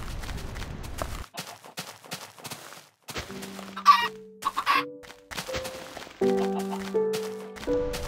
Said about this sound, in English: Hey, look, a baby chicken.